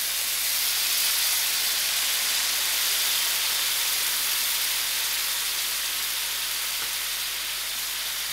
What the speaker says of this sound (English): I'm adding in my tomatoes.